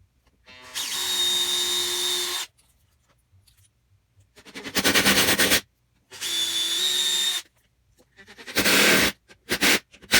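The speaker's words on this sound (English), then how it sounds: "right now I'm clamping them together so that I can simply screw up here and through each one of these boards" A power drill drives screws through clamped wooden boards of a digital piano stand, running in four loud whining bursts of one to two seconds each, separated by silent gaps, with no talking.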